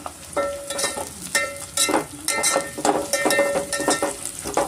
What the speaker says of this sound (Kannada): ಆನಿಯನ್ನು ನೋಡಿ ಚೆನ್ನಾಗಿ ಫ್ರೈ ಆಗಿದೆ